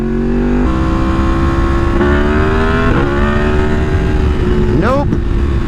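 A Yamaha MT10 motorcycle engine revs hard for a wheelie, loud and close, with several rising pulls and a sharp final surge of revs near the end.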